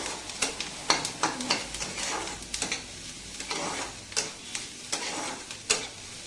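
Paneer and potato cook in a pan over a high flame, with steady frying sizzle and repeated scraping strokes from stirring, plus light clinks of utensils against the pan.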